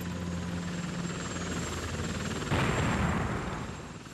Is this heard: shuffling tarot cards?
no